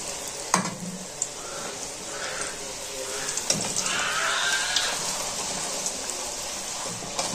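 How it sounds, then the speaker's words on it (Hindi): Puri sizzles and bubbles in a small pan of hot ghee, a continuous close crackling fry with a few sharp clinks of utensils, while someone talks over it. "पूरी बनाएं, घी गर्म है जी, घी के अंदर ओ ऐसे छोड़ दें।"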